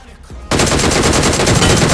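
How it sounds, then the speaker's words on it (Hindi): Rapid automatic gunfire from a gun in the battle royale game BGMI bursts in after a quiet moment, a loud fast steady stream of shots continuing to the end. "अरे क्या बंदूक है ये, बंदूक मेरी लैला।"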